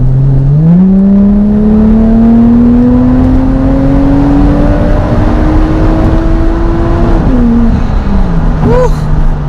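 Toyota Mark II JZX110 with a 1JZ turbo engine, heard from inside the car as it accelerates hard to the red line, a loud rising engine drone that climbs steadily, drops briefly at a gear change, then settles lower.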